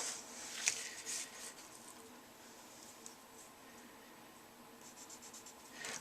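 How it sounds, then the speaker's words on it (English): A pencil scratches a mark on paper in short, close, crisp strokes at the start, followed by quiet light rustling. "I'm just going to make a mark with my pencil."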